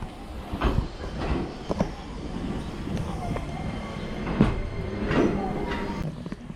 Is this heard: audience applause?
no